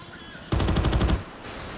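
A 20mm anti-aircraft gun in Battlefield 1942 fires a quick burst of about six rapid, loud shots, then stops abruptly, leaving a lingering echo and background hum.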